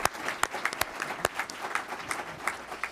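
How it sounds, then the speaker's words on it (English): Audience applause at a school board of education meeting for a regional champion girls cross country team, a short burst of brisk, close clapping from a modest crowd, no talk. "Big round of applause."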